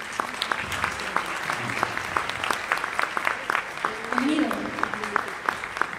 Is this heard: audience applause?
yes